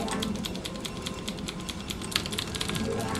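Rapid, continuous clicking of computer keyboard keys during a StarCraft match, a dense steady stream of keystrokes with occasional sharper taps, close and fairly loud with a faint voice in the background.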